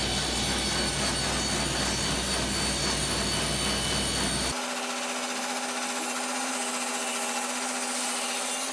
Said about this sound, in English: The last milling process for these timbers was to rip them to final width on the table saw